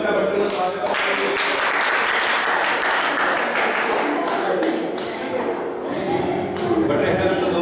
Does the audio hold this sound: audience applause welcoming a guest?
yes